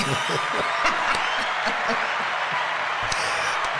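A canned applause and laughter effect triggered from a clap button plays during a podcast conversation, a steady bed of clapping and chuckles heard under people talking.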